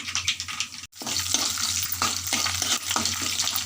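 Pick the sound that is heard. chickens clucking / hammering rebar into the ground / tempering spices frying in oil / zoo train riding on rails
tempering spices frying in oil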